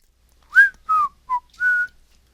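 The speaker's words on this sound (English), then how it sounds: "They whistled a little tune as they formed a square." Four short, clear whistled notes in a little tune from glowing alien beings emerging from a ship, the pitch sliding and wavering between phrases, close and alone with silence around them.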